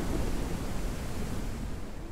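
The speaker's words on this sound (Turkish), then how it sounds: "şu oyunda hakikaten şu yağmur olayı çok can sıkıcı ya" Steady rain in the Ranch Simulator video game, a soft, even hiss of falling water with no distinct drops or breaks, faint and unchanging throughout.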